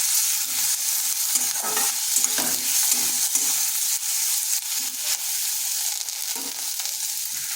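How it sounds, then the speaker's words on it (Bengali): Garlic and green chillies fry lightly in a pan with a constant bright sizzle, broken by frequent short scraping strokes of a spatula stirring them, close and steady throughout. "এরপর এগুলো একটু হালকা করে ভেজে নিচ্ছি"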